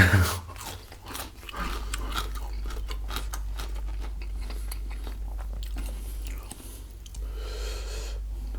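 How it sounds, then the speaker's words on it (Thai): Large cockles in a spicy Thai lemongrass salad are chewed close to the mic, giving wet, crunchy bites and squelches in an irregular rhythm over a constant low hum. "ตัวใหญ่ๆนี่เต็มปากเคี้ยวแทบไม่ได้"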